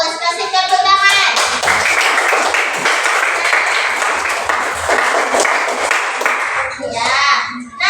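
Classroom students clap for a classmate in an Islamic studies lesson on the prophets, a loud burst of many hands clapping quickly and unevenly, with a voice and a teacher speaking briefly at the start and end.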